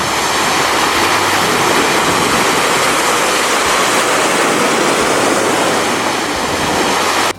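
Sea waves wash onto a beach in Busan, South Korea, making a loud, continuous broadband roar of surf with no breaks between swells. No voices are heard.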